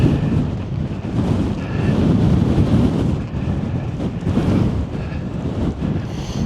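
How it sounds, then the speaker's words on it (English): Strong wind gusting on an Appalachian Trail mountain slope near the summit, a loud steady roar buffeting the microphone with swelling and easing surges, no voices. "Hope we get out of this wind for a moment."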